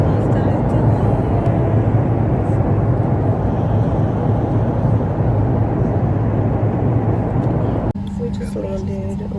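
A passenger airplane lands, its cabin filled with a loud, steady roar of engines and rushing air that drops abruptly to a quieter hum near the end; voices are heard over the noise.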